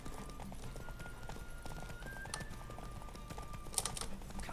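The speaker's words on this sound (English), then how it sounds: "Oh god, my horse is out of stamina." A horse gallops in the video game Witcher 3, a steady rapid clip-clop of hooves over background game music and ambience, moderately loud and continuous.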